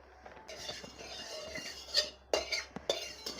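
Eggs being beaten in a bowl with a utensil, quiet scraping and a few sharp clinks against the bowl's side, close up, in short irregular bursts with no talking.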